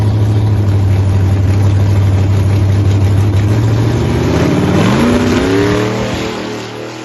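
A drag race car idles loudly at close range, then revs hard and pulls away down the strip, its engine note climbing as the car fades into the distance.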